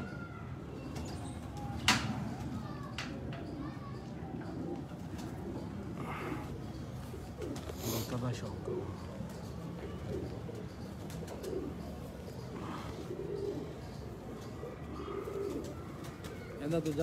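Breeder pigeons coo steadily at close range for the whole stretch, low repeated calls layered over a busy loft with a few sharp chirps and wing flutters mixed in.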